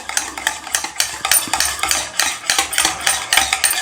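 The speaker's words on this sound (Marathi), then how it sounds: "तर आता आपण हे मिक्स करून घेऊया" Yogurt, milk and oil being mixed in a bowl for a tutti frutti cake, with a steady rhythmic scraping and clinking of a utensil against the bowl, close and fairly loud, no voices.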